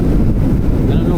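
Strong wind roars loudly and steadily across the microphone while riding a Honda Winner X motorcycle, a dense low rumble masking nearly everything else.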